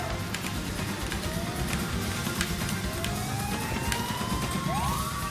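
A police siren in the toy-car racing game Toybox Turbos wails with rising and falling sweeps over a steady dense game engine roar, with faint talk in the background.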